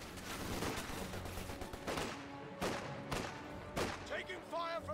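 Enemy infantry gunfire in Company of Heroes 2, a steady crackle of rifle and machine gun fire with several sharper loud bursts and ricochet-like whines, continuous and fairly close throughout.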